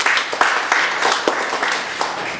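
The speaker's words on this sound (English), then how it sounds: "Let's give God a clap of praise." An audience at a church service clapping in praise, a lively patter of many hands with sharp accents, fairly close and unbroken for a couple of seconds.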